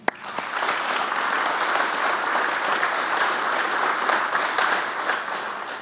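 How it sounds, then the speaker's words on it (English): Audience applause at a fire department Wall of Honor dedication ceremony, a steady, sustained crowd clapping that holds evenly at moderate loudness throughout. "Please again join me in a round of applause thanking our businesses,"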